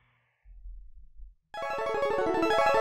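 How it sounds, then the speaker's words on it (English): Old-school 16-bit Capcom logo jingle begins abruptly after faint low rumbling, a loud bright burst of layered synth tones with a rapid pulsing rhythm. "that's like the old school, like 16-bit, like Capcom logo"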